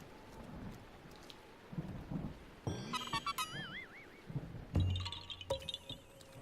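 Thunderstorm in The Legend of Zelda: Breath of the Wild, steady rain hiss with deep rolling thunder rumbles, overlaid by bright synthetic chiming and warbling game tones and a heavy booming hit near the end.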